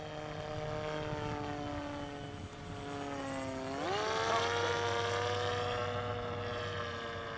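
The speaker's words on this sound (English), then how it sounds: "that prop on the wing there makes a lot of noise" A Flying Foam Mothership foam kit model airplane on its maiden flight, its wing-mounted propeller droning loudly with a rising and falling pitch as it passes overhead, steady and buzzy throughout.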